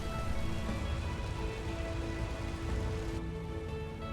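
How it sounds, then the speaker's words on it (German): Water spray hitting a ship in the naval simulation game Ships At Sea, a dense, steady hiss like rain on a surface that holds constant for several seconds, then dulls slightly near the end. "War das Spritzwasser jetzt gerade?"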